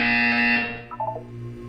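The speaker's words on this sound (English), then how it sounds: "You will hear a buzzer. When you hear the buzzer," A harsh electronic buzzer from the video game Portal 2, one loud sustained blast that cuts off after about half a second, followed by faint game tones.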